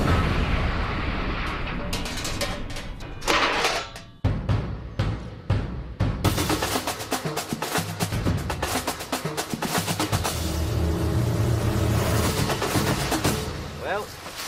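A tank fires at a target during a field manoeuvre: a run of sharp, heavy blasts, then a dense, sustained roaring barrage, loud and close. Voices can be heard among the noise.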